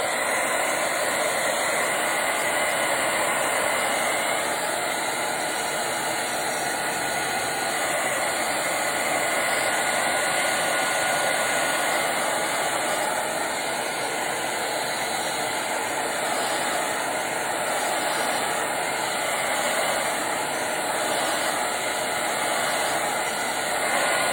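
A hair dryer blows steadily on foil transfer gel adhesive in a craft setup, a loud continuous whoosh held close by for the whole stretch with no talking.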